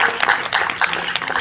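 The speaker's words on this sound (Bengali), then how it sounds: "সকলে জোরে হাততালি দাও।" A group of children at a yoga event for Swami Vivekananda's birthday claps loudly in quick, uneven bursts over a short stretch.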